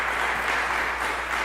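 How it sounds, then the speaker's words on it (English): A film festival Q&A audience gives a round of applause, a dense, even wash of clapping that fills the short moment without pause. "One more round of applause."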